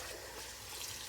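Potatoes are swished by hand in a bowl of cold water to rinse off starch. The result is a faint, continuous watery slosh and trickle heard close up, with no talk.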